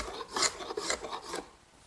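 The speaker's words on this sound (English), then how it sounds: "the excess is removed just using a hand scraper" A hand scraper rasps across a dried wooden tabletop, shaving off excess glue in four or five distinct close strokes, each a brief scratchy burst followed by a short pause.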